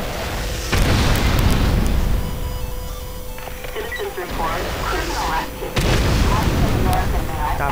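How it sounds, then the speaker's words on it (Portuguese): Loud, booming explosions in GTA San Andreas with a GTA V sound pack rumble heavily, with a long continuous blast, a brief lull of crackling, then another heavy burst. "tá muito louco o áudio das explosões"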